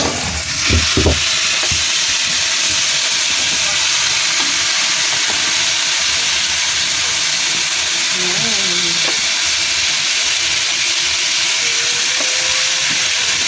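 Chicken adobo sizzles and fries loudly in a pan, a dense, constant hiss that stays close and steady throughout. A few faint clinks and brief voice sounds sit beneath the sizzle.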